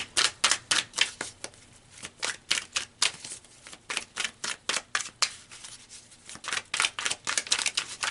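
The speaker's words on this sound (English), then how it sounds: "let's pull some more cards" Tarot cards are shuffled and flicked close up, a rapid run of crisp papery snaps and riffles in uneven bursts with brief pauses between them.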